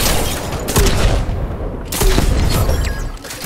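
Loud explosions from a sticky grenade launcher in Fortnite, two heavy booming bursts about a second apart with rumbling tails, broad and close over constant game noise.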